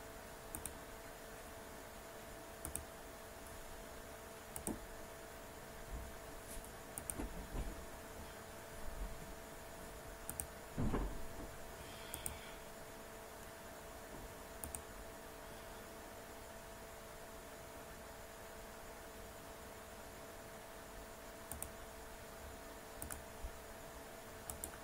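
Sparse, quiet mouse clicks sound over a faint steady computer hum while a polyline is drawn in AutoCAD, single clicks spaced irregularly every second or two, with one louder knock near the middle.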